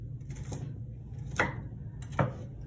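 Nuts for keto brownies chopped with a knife on a board, three separate dull thuds spaced apart over a steady low background hum.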